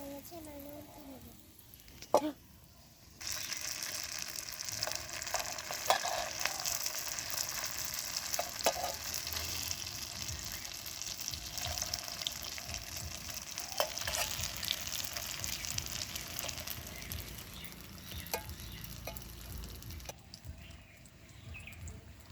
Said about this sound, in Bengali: এক পাশ ভাজা হয়ে গেছে, এবার উল্টে নেব।